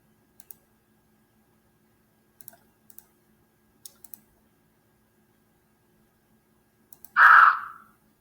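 Several sparse, sharp mouse clicks spaced a second or two apart, each a crisp faint tick on a quiet background, followed by a brief louder swoosh near the end.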